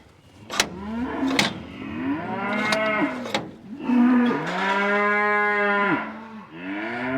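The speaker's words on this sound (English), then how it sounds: "I've never known cattle to be so bloody noisy" Cattle moo and bellow loudly and repeatedly, long drawn-out calls overlapping one another, with a few sharp knocks in between.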